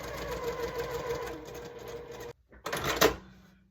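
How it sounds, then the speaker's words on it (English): Close, steady whir of a sewing machine stitching quilt block pieces, stopping briefly before a short burst of stitching and a clunk. "So I need to sew these up."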